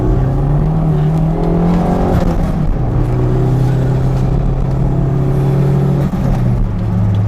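A Toyota MR2 Turbo fitted with an S54 engine pulls hard in second gear, its loud close engine note rising steadily in pitch with a brief dip around a shift, unbroken and alone without talk.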